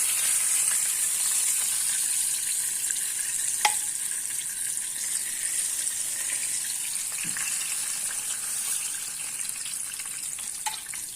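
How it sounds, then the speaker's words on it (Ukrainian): Flour-coated rabbit meat pieces frying in a pan, giving a steady, loud, hissing sizzle throughout with a few faint clicks from the pan and no talking. "Вжарюємо всі інші кусочки м'яса, так само у муці."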